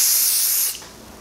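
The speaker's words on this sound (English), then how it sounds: "I would love to see how this sprays out." Got2b Glued wig spray bursts out of its can in one steady, loud, close hiss that lasts most of a second before cutting off abruptly, then a faint tail.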